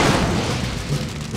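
A tank blows up in a field as a deep, sustained explosive roar, loud and dense throughout with rumbling low end and no voices.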